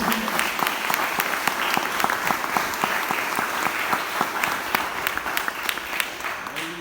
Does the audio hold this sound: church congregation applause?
yes